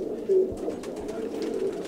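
Nearby pigeons give soft, repeated throaty coos, a low continuous burbling with a couple of brief louder calls and no speech over it.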